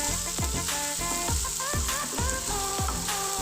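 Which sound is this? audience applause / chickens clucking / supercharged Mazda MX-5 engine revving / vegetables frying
vegetables frying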